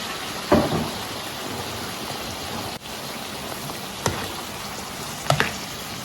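Quiet, steady sizzling of shredded onions and garlic frying in hot oil for Ghanaian shito chilli sauce, with a few sharper pops and spatters breaking through now and then.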